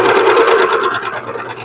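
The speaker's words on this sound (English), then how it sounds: "I'm serging the whole thing instead of using the machine" A serger overlock machine stitches fabric pieces together for a patchwork dress, a loud, steady rapid whirring hum that runs continuously with slight easing toward the end.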